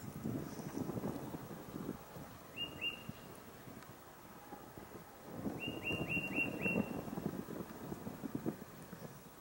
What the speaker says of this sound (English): The wind is blowing me away.